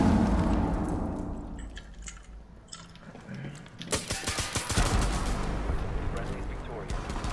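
Video game gunfire: a dense burst of loud shots erupts midway after quieter clicking and movement, with a dull rumble underneath.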